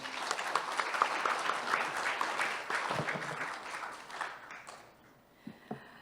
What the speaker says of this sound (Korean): 발제해 주신 조영철 과장님께 큰 박수 다시 한번 부탁드립니다